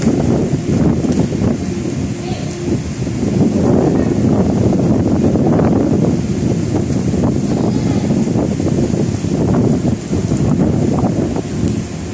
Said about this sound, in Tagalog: Mahangin na lang.